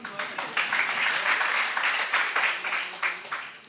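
An audience at a religious discourse gathering applauds, a dense, steady wash of many hands clapping that swells and fades slightly over several seconds. Some individual claps stand out near the end.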